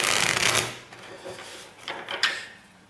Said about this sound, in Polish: więc tasujemy tak